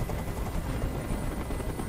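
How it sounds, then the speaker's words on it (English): A helicopter hovers overhead in the video game Detroit: Become Human, a loud, steady rotor roar with rapid low thumping that fills the brief moment without any speech. "Tell that helicopter to get out of here!"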